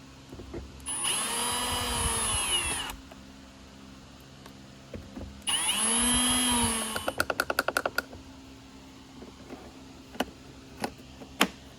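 A Hoover Commercial Insight vacuum is reassembled as a power driver whines in two sustained bursts to drive screws back in, followed by a quick run of ratcheting clicks and a few scattered taps, close and without talk.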